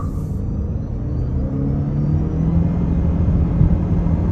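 A 2023 Mitsubishi Outlander PHEV SE plug-in hybrid SUV accelerates on the road, heard from inside as a steady low rumble and whir that builds slightly, with no talking.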